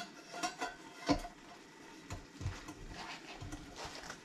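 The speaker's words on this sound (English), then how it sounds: "go ahead and add our pan in here" A pan is set down inside an Instant Pot, giving one clear metallic clank with a few softer knocks and scrapes around it, fairly quiet and close.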